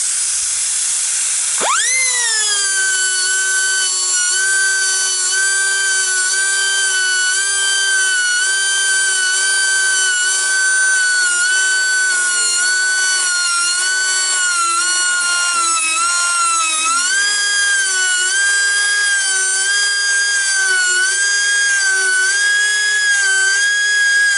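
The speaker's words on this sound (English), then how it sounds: "what I'm doing this morning here before the neighbor comes is I'm sharpening this blade" A saw blade being sharpened before cutting red oak logs, giving a loud, steady high-pitched grinding whine that holds for over twenty seconds with slight shifts in pitch and no talk.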